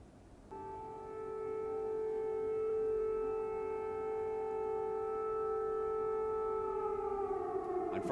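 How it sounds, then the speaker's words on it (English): A loud, steady air raid siren in Ukraine during the Russian invasion wails continuously at a constant pitch, then begins to wind down and fall in pitch near the end. "Air raid sirens were heard throughout the night in many cities across the country."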